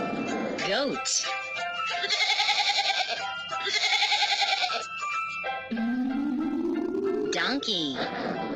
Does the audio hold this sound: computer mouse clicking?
no